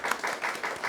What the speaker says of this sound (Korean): 박수, 환영의 박수 한번 칠까요?